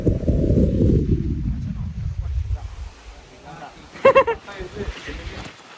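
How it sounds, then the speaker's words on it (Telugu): Heavy wind buffets the microphone at a dam, a loud low rumble that fades over a few seconds before a brief burst of talk. "ఇగో గాలికి ఎగిరిపోతున్నాం చెప్పాలంటే, చాలా అంటే చాలా గాలి వస్తుంది చూసుకోవచ్చు"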